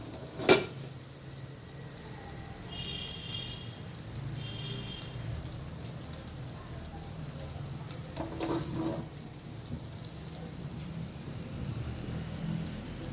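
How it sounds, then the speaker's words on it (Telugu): Tempering for ivy gourd chutney sizzling quietly in hot oil, a faint steady crackle with a sharp clink at the start and a few brief clatters. "దొండకాయ పచ్చడి అయితే ఇప్పుడు పోపు పెట్టుకుందాము."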